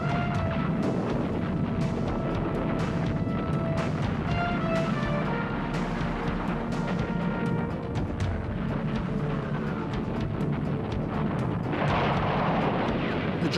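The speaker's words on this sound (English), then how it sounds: "Amid sinking tanks and exploding landing craft, raked by relentless machine gun fire" Battle sounds from the D-Day invasion of Normandy, with dense continuous rumbling explosions and crackling gunfire layered over a loud, steady wall of noise throughout.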